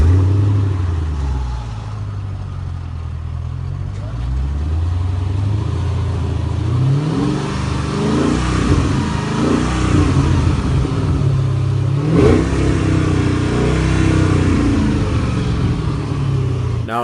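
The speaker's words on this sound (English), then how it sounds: "The X-pipe is installed, so let's fire up the engine" A Mercedes S55 AMG with a newly fitted X-pipe exhaust starts up and revs, its deep engine note rising and falling through several throttle blips before settling into a loud, steady rumble close by.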